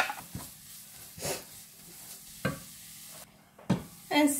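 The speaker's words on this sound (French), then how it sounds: "Je vais aussi faire revenir ces ingrédients ensemble avant d'assaisonner et d'introduire la viande." Onion, garlic and carrot sauté together in a pan. A low sizzle sits under several distinct stirring scrapes that come in spaced bursts, with a brief quiet gap before the last strokes.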